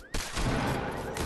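Video game gunfire, a dense, loud burst of continuous rapid shots with no gaps, close and harsh, lasting about a second.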